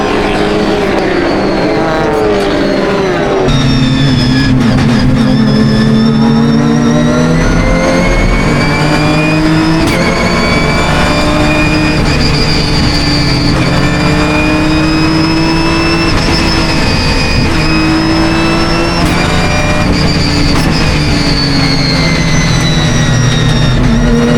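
Porsche and Ginetta endurance race cars pulling away from the front row at the Donington Park Britcar Endurance round, a loud sustained roar of several engines with rising and falling revs, no talk.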